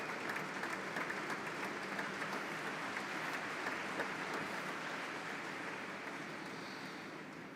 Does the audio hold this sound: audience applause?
yes